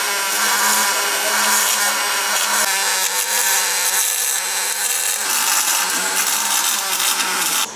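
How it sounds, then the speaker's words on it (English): Feet plates are welded onto a trommel drum build in a workshop, a loud continuous crackling, hissing buzz that carries on steadily throughout. "So yeah, welding on the feet plates now."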